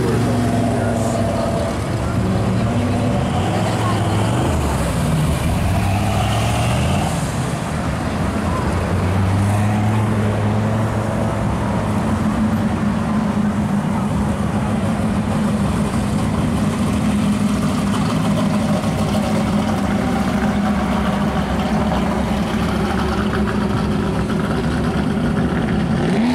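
Engine of a modern Chevrolet Silverado pickup truck idling on a roadside along US 12, a steady low rumble running throughout amid traffic noise, with some talk layered over it.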